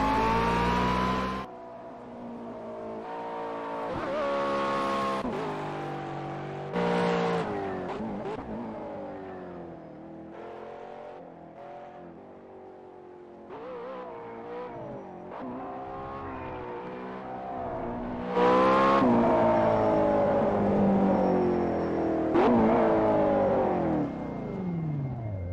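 Simulated McLaren 12C engine in Project CARS on a wet track, revving up and down continuously through gear changes, steady and fairly loud with surges toward the end.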